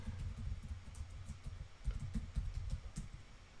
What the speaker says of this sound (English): And I'm going to type my email,